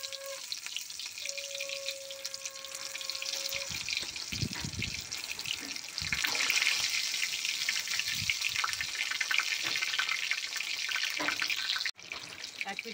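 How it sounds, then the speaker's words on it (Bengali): Stuffed eggplant fries in oil in a wok over low heat, a steady crackling sizzle that grows denser and louder partway through, broken by occasional soft knocks and a brief dropout near the end; no speech. "বেগুনটা কম আঁচে ভাজা হবে।"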